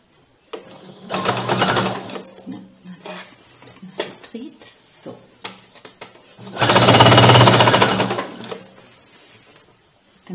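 A sewing machine stitches a trouser pocket seam in bursts, a short run near the start and a longer loud whirring run later, with a voice speaking between the runs.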